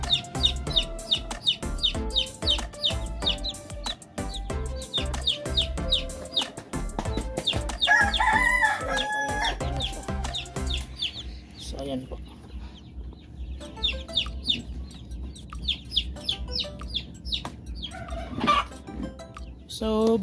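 Young Rhode Island Red chicks peep constantly in rapid, high, overlapping chirps with a few clucks, close by, while a person talks quietly in the background.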